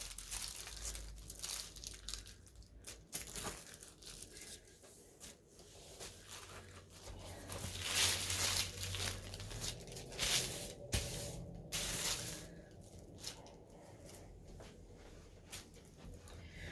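Paper sewing pattern for a Simplicity 3750 peasant blouse being folded in half, with close, continuous crinkling and rustling that swells in louder bursts of handling midway and carries on with no talking.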